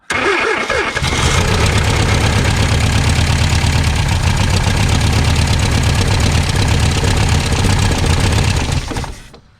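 An old car with a cold, long-unstarted engine cranks briefly and then catches, running at a loud, steady, slightly knocking idle for several seconds before it cuts off abruptly.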